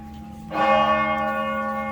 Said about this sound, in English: Let's finish the bell. 12 times.